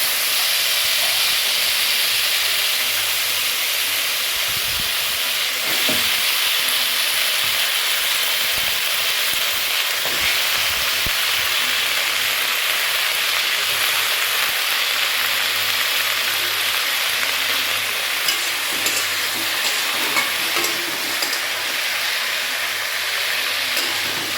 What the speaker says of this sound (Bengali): এবার আমি পেঁপে আলুটা ভাজতে দিয়ে দেবো।